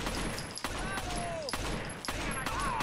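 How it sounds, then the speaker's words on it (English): Several sharp gunshots crack out in quick bursts about half a second apart in the video game Rainbow Six Vegas, some with whizzing tails, over a steady background hum. "Oh, that's gunfire."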